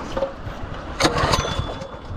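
A small engine being pulled to start on a beach near Nome, Alaska, with gas on, choke on and full throttle: a close, rough rumble with a brief louder burst midway, not settling into a steady run.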